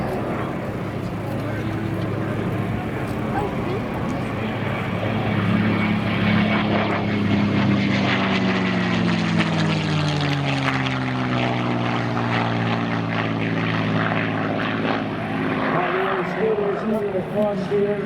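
Propeller airplane making a low pass at the First State Airshow at Dover Air Force Base, its engine drone loud and steady with a pitch sweep as it passes close by, an announcer talking over it.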